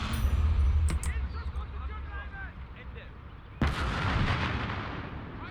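Guns fire in a loud burst in the World War II strategy game Call to Arms: Gates of Hell, followed by a sharp, heavy shot later on, with a voice speaking over the combat.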